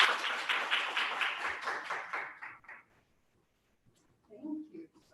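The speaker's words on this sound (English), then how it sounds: "Let's give Stacy a round of applause." An audience at a health advocacy breakfast claps for a speaker, a dense burst of applause that thins and fades out after a few seconds, followed by silence and then a brief voice.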